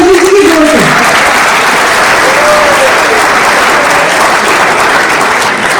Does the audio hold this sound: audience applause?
yes